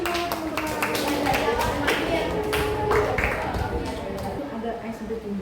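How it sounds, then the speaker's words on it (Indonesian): A class of students clapping in a school lesson, irregular dense clapping mixed with chatter and voices throughout. "Kita beri tepuk tangan dulu teman-teman."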